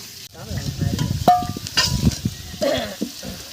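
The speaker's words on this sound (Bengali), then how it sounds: "আলু ভাজাগুলো তুলে নেব, খুব সুন্দর করে ভেজে নিয়েছি।" Potato pieces frying in a pan while being stirred, cooked village style for a chicken curry, with a steady sizzle broken by scraping stir strokes and a sharp clink of utensil on pan.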